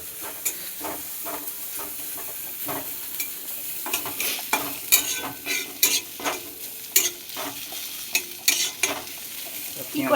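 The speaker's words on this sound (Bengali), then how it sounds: "তো পেঁয়াজ মোটামুটি ভাজা হয়ে গেছে" Onions frying in a pan on a home kitchen stove, with a steady sizzle underneath and repeated close scraping strokes of a spoon stirring them at an irregular rhythm, fairly loud, with no talking.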